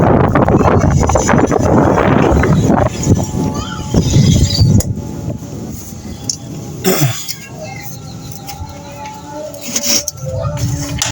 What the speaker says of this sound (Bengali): ঝড় উঠে গেছে।